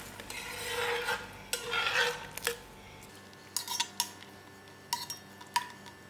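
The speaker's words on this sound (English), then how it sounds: "And stir it well." A spoon scrapes and clinks against a pot of syrup, starting as a busy, continuous stir and then breaking into sharp, separate metallic taps, close and fairly quiet, with no talking.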